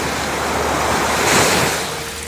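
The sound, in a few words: sea waves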